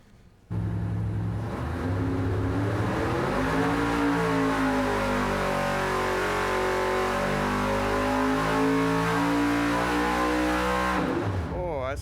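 An engine making about 1,200 hp with no turbo, nitrous or blower pulls at wide open throttle on a dyno, a loud sustained roar rising in pitch for over ten seconds before cutting off.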